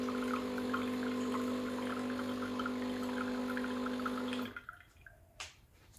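A Breville Barista Pro BES878 espresso machine pumps out hot water with a steady, humming pump drone for a few seconds, then cuts off, leaving a few soft drips and small clicks nearby.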